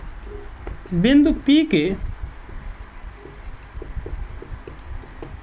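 Soft scratchy strokes of writing on a board come in small, faint, irregular taps after a teacher speaks briefly.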